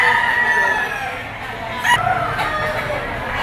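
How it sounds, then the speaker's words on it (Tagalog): A yellow-legged pumpkin sweater gamecock with a straight comb, about 12 months old, crows once loudly and close by, its call rising and trailing off over a few seconds against outdoor background noise. "Laking manok din ito."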